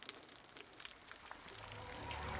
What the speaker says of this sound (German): Es regnet in meiner Zelle?